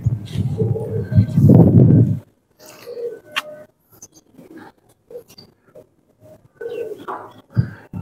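Pigeons of the surkhy tamry, bicho kamager and zakh breeds in a new cage give low, throaty coos, a loud close burst early and then softer scattered coos with small rustles and pauses between.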